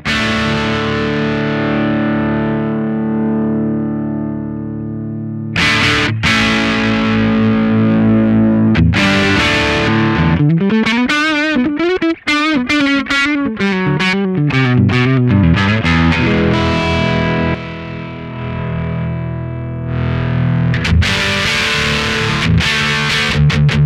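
Electric guitar played through the drive channel of a Two Notes ReVolt, loud and heavily distorted, with sustained ringing chords, a burst of fast wavering notes in the middle, and abrupt restarts, heard alone without voices.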